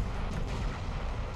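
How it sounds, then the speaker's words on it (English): In Halo Reach, a plasma cannon fires in heavy, booming bursts amid a dense roar of combat noise, loud and continuous throughout. "This is why I wanted the plasma cannon."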